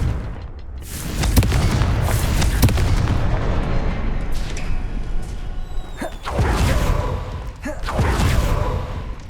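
In the Hogwarts Legacy video game, the Confringo spell sets off a series of booming explosive blasts at Rookwood Castle. Several loud bursts with rumbling tails follow one another, interspersed with sharper cracks and brief game voices.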